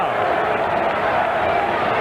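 Dense, steady roar of a large baseball crowd at Wrigley Field during a 1984 Cubs game against the Pirates, a continuous wash of many voices with no single sound standing out.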